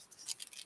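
Scissors snipping and working crepe paper into rose petals, a quiet run of short crisp cuts and paper rustles up close, with no talk.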